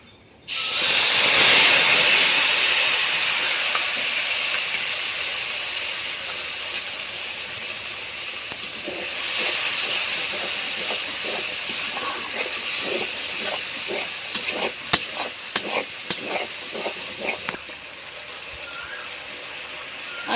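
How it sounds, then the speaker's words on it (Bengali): Spice paste hits hot oil already tempered with cumin, bursting into a loud, steady hiss that slowly settles, with faint crackles and pops scattered through the later part. "আমি এবার মশলার পেস্টগুলোকে দিয়ে দেবো"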